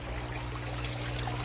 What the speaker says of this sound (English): This is my water flow.